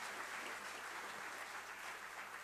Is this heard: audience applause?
yes